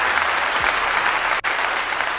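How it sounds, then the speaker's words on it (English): Steady, even clapping holds at one level for about two seconds with a brief dropout, given as a shout-out to livestream chat moderators. "Let me give you all a clap."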